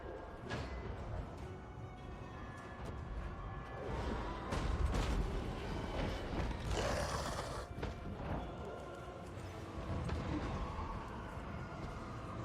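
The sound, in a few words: units firing over walls in Total War: Warhammer 2 video game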